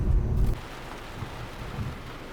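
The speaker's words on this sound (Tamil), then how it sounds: "டவுனுக்குள்ள வந்து ரீச் ஆன அடுத்த நிமிஷமே மழை பிடிச்சிருச்சு. பயங்கரமான மழை." Heavy rain pours down in the town of Jamunamarathur in the Javadhu hills, a dense steady hiss with a deeper rumbling burst at the start, loud and continuous with no voices.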